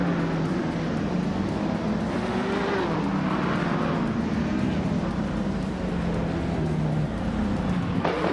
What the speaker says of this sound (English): Mighty Chunk has shot off the line to take the lead.